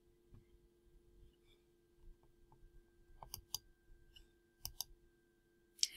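Sharp mouse clicks from a computer mouse right-clicking in Canva, a few faint scattered clicks followed by several crisper, louder ones near the end over a quiet electrical hum.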